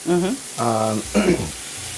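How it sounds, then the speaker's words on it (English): Onions caramelizing in a pan give a continuous sizzle and hiss, with stronger tonal, voice-like sounds over it in three short bursts. "And this is when I caramelize them, which means that I'm going to brown them."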